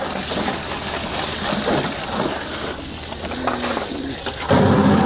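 Water rushing steadily into a plastic container of a homemade portable hand washing station, a constant splashing gush that swells louder near the end, with no talking.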